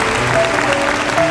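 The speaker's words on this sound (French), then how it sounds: "qu'on applaudit très fort" A 1970s French TV studio audience applauds loudly for Mademoiselle Emmanuel on a children's talent show, a full, dense burst of clapping with music tones sustained beneath it.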